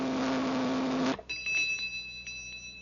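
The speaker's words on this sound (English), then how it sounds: "The better it tastes, the louder it'll ring the bell." A toy flavor meter with a cereal slot and a push button sounds its bell: a low steady buzz cuts off abruptly, then a thin, sustained high ringing tone hangs on alone.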